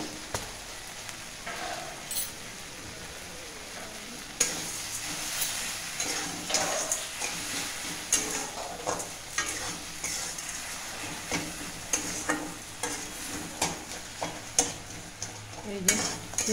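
Tomato chutney being stirred in a pan after sugar is added, with steady frying sizzle and repeated scraping strokes and clinks of a utensil against the pan, close and continuous throughout.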